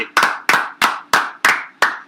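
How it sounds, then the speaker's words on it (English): A single person claps hands six times in a steady, evenly spaced rhythm, each clap crisp, loud and close, with brief decay between strikes and no voices. "Should we clap it up for Antonio Brown?"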